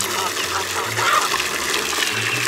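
Water gushing into a container on a ranch, a steady splashing pour with a low hum underneath, close and loud, and a voice talking briefly over it.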